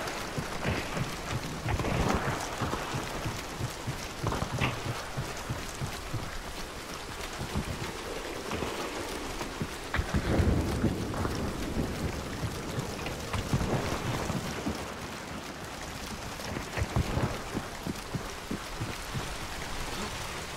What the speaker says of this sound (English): Boy, the moment it turned into heavy rain, I was like